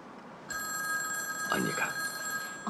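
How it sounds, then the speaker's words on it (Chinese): A telephone bell rings indoors in a steady electronic trill that starts suddenly and repeats at moderate volume. A person speaks briefly partway through the ringing. "电话。"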